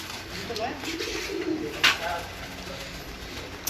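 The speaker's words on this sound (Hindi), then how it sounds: "ये भी इनके कबूतर हैं जी।" Pigeons coo softly and repeatedly in a pigeon breeding section, over a steady, noisy outdoor background, with faint voices nearby.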